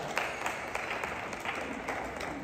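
Crowd applause at a wedding celebration, steady moderately loud clapping from many hands throughout.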